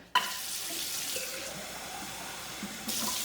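Tap water runs into a sink to rinse a new hydrogen water generator bottle, a steady close splashing stream that starts abruptly and continues throughout, briefly shifting in tone near the end as the bottle moves under the flow.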